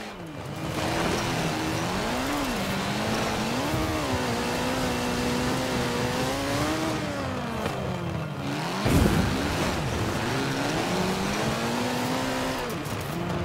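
A Ford RS200 Group B rally car with a fiberglass chassis, driven in Forza Horizon 4, its engine revving up and down through gears with rising and falling pitch, plus a brief sharp thump midway.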